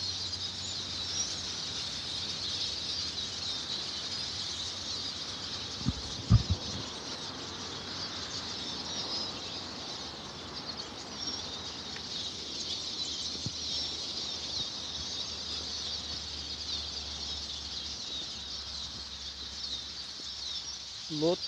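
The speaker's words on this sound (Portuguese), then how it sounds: "Lotadinho de passarinho." Many small birds chirp steadily throughout an abandoned toll building in Eldorado do Sul, Brazil, a dense, constant high twittering chorus with a few low knocks and thumps midway.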